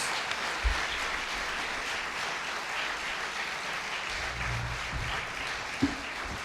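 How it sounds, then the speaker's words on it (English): An audience applauds candidates at the close of a Boca Raton city council candidate forum, a steady wash of clapping at moderate level with a few sharper thumps and claps standing out near the end. "Please give all the candidates a big round of applause."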